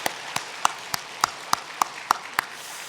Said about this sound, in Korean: 잠깐 자리에서 일어나시면 박수로 환영하도록 하겠습니다